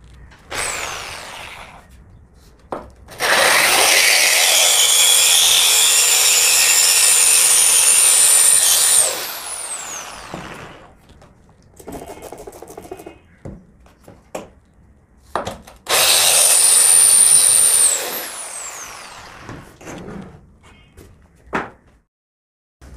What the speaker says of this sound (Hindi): पानी डालने के बाद अब हम स्टार्ट करेंगे अपनी ड्रिल।